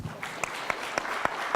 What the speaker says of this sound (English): So I think a round of applause for the men.